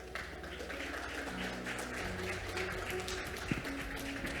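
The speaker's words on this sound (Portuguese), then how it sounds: "Uma salva de palmas." Applause from an audience at a Brazilian conference presentation on BIM for infrastructure, a soft, even patter of clapping that carries on quietly for several seconds in a large room, with a faint hum underneath.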